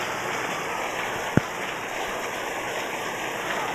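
Heavy rain pours in a dense, even hiss around a Philippine home, steady throughout with one brief sharp tap.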